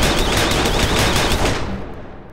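A sentry gun in People Playground fires a fast, loud continuous stream of automatic shots, trailing off and fading out near the end with no voices.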